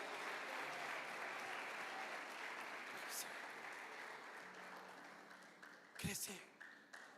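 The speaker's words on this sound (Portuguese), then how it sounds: "Você pode aplaudir a Jesus por isso?" A church congregation applauding during a worship service: a steady wash of crowd clapping, fairly faint and roomy, lasting several seconds before fading, with a short burst of louder sound near the end.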